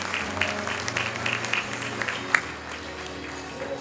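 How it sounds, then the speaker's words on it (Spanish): Soft, scattered applause from an audience at a school graduation ceremony for eighth-grade students, faint and somewhat distant, with a murmuring crowd underneath and one sharper sound near the middle. "Le brindamos un fuerte aplauso a todos los alumnos del octavo año A"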